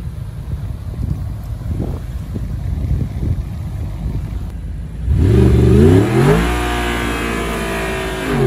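An Audi supercar sits with wind rushing past, then its engine abruptly roars and revs up hard, climbing through rising gear-like sweeps before settling into a sustained loud drone, close and without talk.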